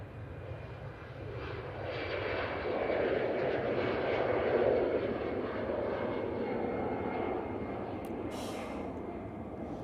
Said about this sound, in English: Fair bit of smoke coming out there on touchdown.